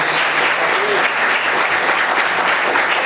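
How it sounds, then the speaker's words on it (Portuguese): A church congregation applauds during an evening worship service, a dense, steady wash of many hands clapping at close range and loud throughout, with no talk over it. "Quantos podem aplaudir o Senhor nessa noite?"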